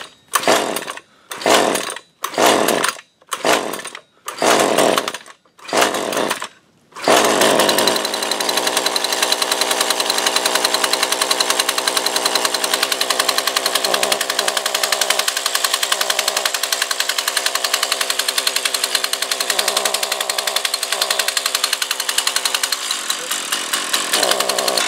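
A Husqvarna 128CD string trimmer engine fires in a series of short, loud, sputtering bursts with gaps between them, then catches and runs continuously at a steady, rasping two-stroke drone up close.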